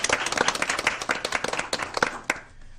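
A small audience at a school board meeting gives a short round of applause, with many overlapping claps for under three seconds that fade at the end.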